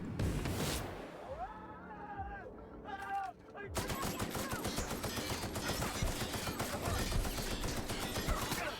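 Gunfire in The Outer Worlds, opening with a few separate shots and some brief shouted voices before sustained rapid automatic fire takes over, dense and loud, with battle noise continuing to the end.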